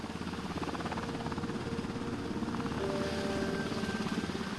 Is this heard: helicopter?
yes